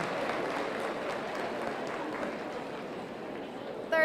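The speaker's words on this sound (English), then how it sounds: "Let's give them a big round of applause" An audience claps in the show barn at a county youth fair market hog show; a moderate, steady patter of applause mixed with crowd murmur and general livestock-arena noise, ending with a brief louder burst.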